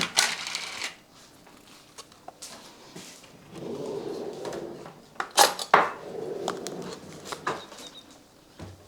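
A pan is handled in a Portuguese homestead kitchen before butter goes in, with irregular metallic clanks and clatters, some sharp and close, amid quieter shuffling.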